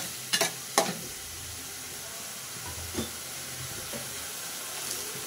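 Dried fish frying in a pan, stirred with a few sharp scraping strokes early on over a steady faint sizzle, then quieter occasional stirs.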